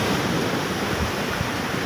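Typhoon-driven sea surf pounds near damaged houses in Surigao City, a steady, loud roar of crashing water mixed with wind buffeting the microphone.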